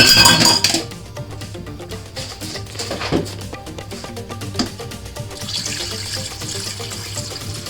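Water from a kitchen tap runs into a metal cooking pot, with a brief louder splash and clatter at the start, then a steady softer flow with light clinks of pots and cutlery, no talking.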